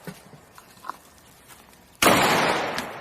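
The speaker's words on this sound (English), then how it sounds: "Let's see if you can hit those 4 bad guys with 2 shots." Gunshot in a video game, one sudden loud blast after quiet clicks and small taps, leaving a broad roaring decay that trails off slowly.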